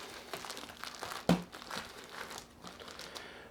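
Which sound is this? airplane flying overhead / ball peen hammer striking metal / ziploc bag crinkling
ziploc bag crinkling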